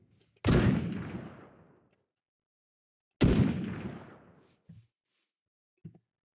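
Two loud, sharp gunshots from a scoped rifle in Minecraft's MrCrayfish gun mod, each with a long decaying echo, followed by faint small clicks.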